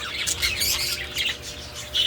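Pet birds chirp and tweet in quick, repeated bursts close by, a busy, continuous twittering with no talking.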